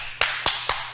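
Four sharp, evenly spaced hand claps close by, each one crisp and brief, with no one talking.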